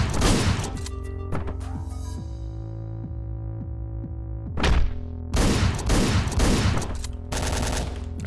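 Gunfire in the video game Hotline Miami: loud bursts of rapid shots and thuds over electronic game music, with a pause in the middle before more volleys, no talking.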